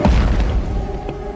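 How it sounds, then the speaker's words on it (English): An aircraft's sonic boom over Southern California rolls out as a loud, deep boom that rumbles and slowly fades, heard alone without voices. "there was a series of unexplained sonic booms in the Southern California area, literally shaking windows"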